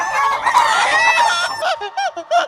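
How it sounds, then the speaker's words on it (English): Chickens and roosters on a small Colombian island, a loud close crowing call followed by a run of short sharp clucks, with no talk. "when you try to sleep here, the chickens go crazy."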